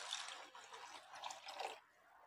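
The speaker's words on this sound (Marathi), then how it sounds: "आणि आता लगेच पाणी घालू आपण" Water pours steadily into a pot of washed rice and melted jaggery for sweet coconut rice, a soft continuous splashing hiss that stops abruptly near the end.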